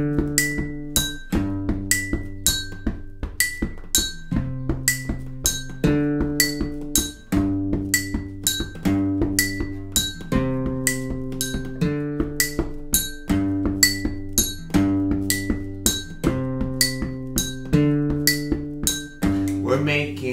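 Drinking glasses struck as instruments in a children's music lesson, ringing out in a steady repeated pattern of bright clinks with lower sustained tones, moving in a regular beat for about twenty seconds.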